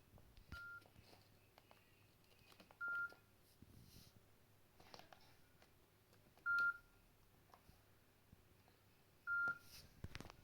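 Nokia phone keypad beeps as the phones are unlocked: four separate short bursts of tones spaced a few seconds apart, each with a brief melodic beep, plus soft handling clicks between them.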